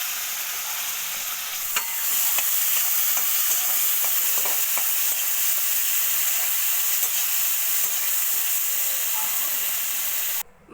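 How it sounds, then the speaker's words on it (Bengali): Fish fries lightly in oil in a wok, giving a steady, close hiss and sizzle with occasional soft clinks of stirring, then cutting off abruptly at the end. "মাছগুলো একদম হালকা করে ভাজবো"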